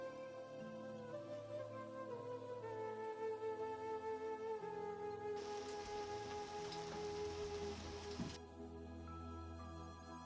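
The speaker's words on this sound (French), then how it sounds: "Parce qu'il pleut sa mère." Steady rain patter on a trek to Island Peak, Nepal, with a brief heavier downpour in the middle, layered over a sustained tonal hum.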